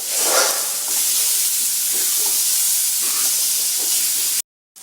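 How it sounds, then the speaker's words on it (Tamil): Steam hisses steadily from a pressure cooker holding mutton curry, a continuous loud rushing spray that runs without a break before cutting off abruptly. "அந்த குக்கரில் உள்ள ப்ரெஷர் ரிலீஸ் ஆகட்டும்"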